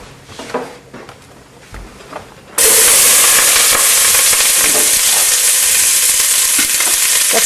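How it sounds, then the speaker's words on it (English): Chopped onions hit smoking-hot extra virgin olive oil in a pan with a sudden loud, roaring sizzle that continues as a steady, dense hiss after some quieter kitchen clatter. "I'm going to put the onions in real fast to cool it off."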